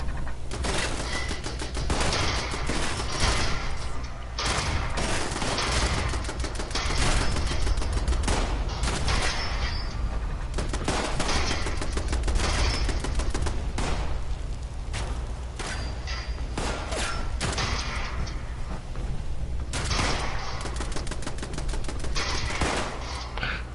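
Nonstop automatic gunfire rattles through a firefight in the video game Fallout 76, dense rapid bursts of shots layered with booms and impacts, loud and continuous throughout.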